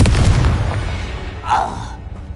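Confringo fire-blast spell from Hogwarts Legacy, a loud booming burst that fades into a crackling tail with a second softer flare, close and forceful.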